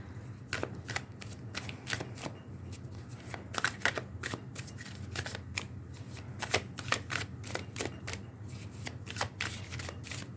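Tarot cards shuffled during a reading, a quick series of crisp riffling snaps and flicks repeating rhythmically, close and fairly quiet over a low background hum.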